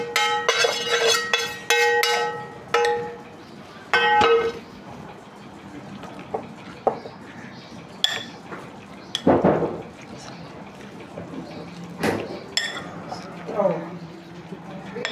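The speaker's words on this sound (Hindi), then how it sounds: "अब इसको हम कीमे के अंदर मिक्स कर लेंगे, बेसन के आटे को।" Gram flour is worked into minced meat for seekh qeema, with metal spoon clinks and scraping against a pot in uneven bursts. A voice is also heard in the background.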